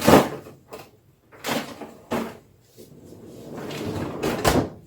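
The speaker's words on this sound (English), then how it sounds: "And a pull-out drawer." Several close bumps and sliding rumbles of a pull-out kitchen drawer being pulled out and pushed, irregular knocks followed by a longer gliding rumble.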